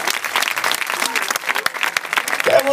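Loud, lively audience applause at a dance performance, dense clapping close by with crowd noise mixed in and a brief voice near the end.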